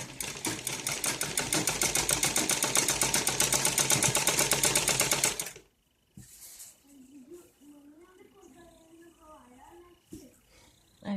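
A sewing machine stitches net cloth for a ladies' suit, running in a loud, steady rapid rhythm for about five seconds before stopping, followed by someone talking quietly.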